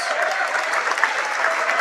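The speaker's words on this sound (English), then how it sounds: "And McNett, the sophomore, gets a hand from the Belmont crowd, which traveled well tonig" Applause from a traveling crowd at a high school boys basketball regional game in a gym, steady and fairly loud, as a sophomore player fouls out; clapping fills the whole moment without a break.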